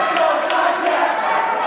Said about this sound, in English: Dijak is hearing that Rowan crowd cheer